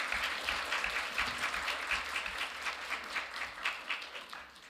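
Steady applause from a conference audience at a global governance forum, dense clapping sustained at an even level for the whole span with no voices over it.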